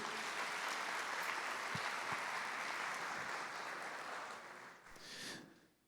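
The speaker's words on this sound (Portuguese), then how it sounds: "Vamos aplaudir a palavra de Deus." A church congregation applauds steadily for several seconds, dense and even, then the clapping thins and fades out near the end.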